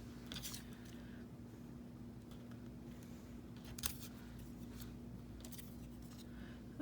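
Scissors cut stamped paper tags, with several faint, brief snips scattered over a quiet room background and no talking.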